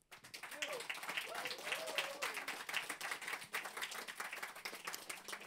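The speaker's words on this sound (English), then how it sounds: "I suggest you give yourself, the speakers, and those who organized this great event a great applause" Applause from an audience at an Indigenous Liberation Day festival event, a steady dense patter of clapping throughout with a voice briefly audible over it.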